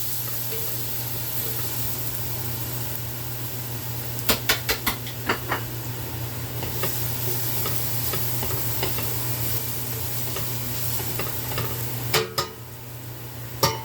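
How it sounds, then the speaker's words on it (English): Garlic frying in a hot pan for seafood linguine, a steady sizzling hiss with a low hum underneath, broken by a few sharp metallic clinks of a utensil against the pan. "Put your garlic in first. Cook your garlic down a little bit."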